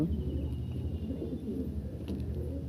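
A Madras pigeon coos in soft, low, rolling notes, close and continuous, with no talk.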